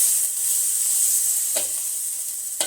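Butter melts in a pan over low gas, giving a steady soft high sizzle with two brief scraping stirs near the end.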